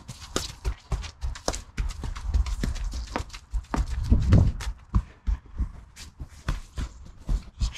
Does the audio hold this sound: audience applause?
no